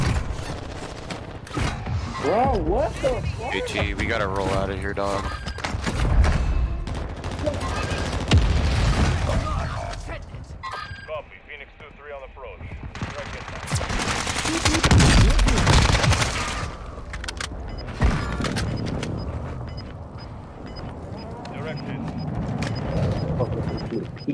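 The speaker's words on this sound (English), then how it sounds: "We're getting shot at from the other side." Gunfire in Call of Duty Warzone 2 comes in repeated bursts and single shots, some loud and near, others distant, mixed with mechanical clicks and booms, while players talk over it.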